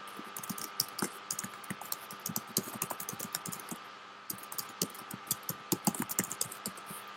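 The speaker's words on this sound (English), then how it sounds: "I'll just type it in the box right now." Close, steady clicking of keys on a computer keyboard, irregular bursts of taps with short pauses, no voices.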